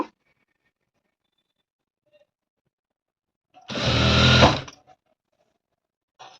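Sewing machine running in one short burst of about a second while stitching a lehenga, a close whirring rattle between quiet pauses.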